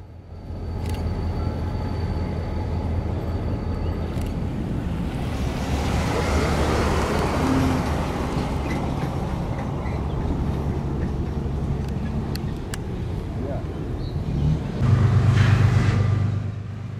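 A KCS freight train rolls through a control point crossover on the Meridian Subdivision, a steady loud rumble of wheels and rail noise with wind buffeting the microphone and brief squeals and clanks.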